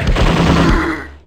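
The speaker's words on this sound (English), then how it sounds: "Machine gun." A short, loud burst of rapid machine gun fire rattles close by in Zombie Revenge, a Dreamcast video game played on the redream emulator, cutting off after about a second.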